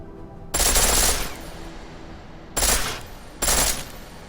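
Full-auto gunfire in Deus Ex: Mankind Divided comes in three sharp bursts: a longer opening spray, then two shorter ones, each loud and close with a fading tail.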